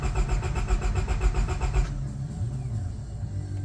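A Honda Civic EK with a suspected fuel pump fault cranks close up, the starter chugging in a fast, even rhythm for about two seconds before giving way to a lower, steadier hum.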